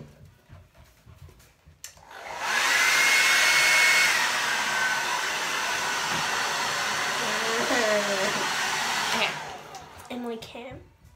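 A hair dryer, used while styling hair for braiding, switches on and blows with a loud, steady whoosh for about seven seconds, then cuts off, with brief talk and small sounds on either side.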